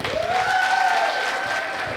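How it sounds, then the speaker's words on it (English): Wedding reception guests applauding and cheering after a speech, a dense, loud burst of clapping with a whistle or whoop riding over it, steady throughout. "we can do a lot better than that. Lots of cheers and applause"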